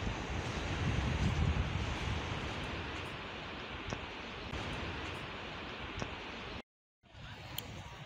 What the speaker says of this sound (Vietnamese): Phía trước là biển.